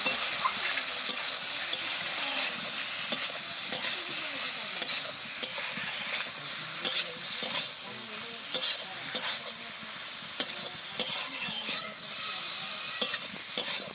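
Spices and salt being sautéed and stirred in a pan for a rohu fish curry with potato and pointed gourd, a steady close sizzle broken by repeated scraping strokes of a spatula, with no talking.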